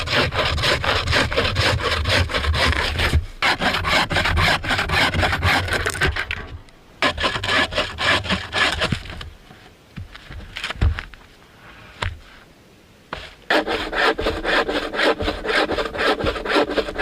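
A hand saw cuts through wooden logs outdoors in a snowy winter setting, with close, loud, rhythmic rasping strokes. The sawing pauses briefly partway through, then resumes.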